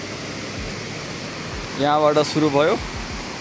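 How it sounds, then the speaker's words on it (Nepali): A waterfall on a hiking trail near Chisapani, Sindhupalchowk, gives a constant broad rushing roar, with a person briefly speaking over it partway through. "र हामी अहिले यस्तो झरना छ यहाँ।"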